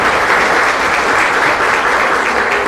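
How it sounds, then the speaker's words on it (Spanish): An audience breaks into loud, sustained applause for a conference speaker, dense clapping from a large crowd that holds steady for a few seconds. "Un fuerte aplauso para nuestro expositor."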